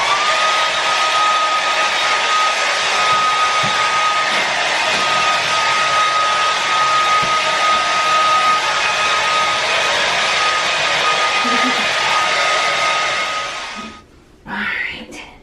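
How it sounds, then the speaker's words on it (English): A handheld hair dryer blows steadily and loudly at close range while drying a pet dog, a constant whooshing roar with a faint whine, then cuts off near the end, leaving a brief rustle. "And then I'll just try blow drying him."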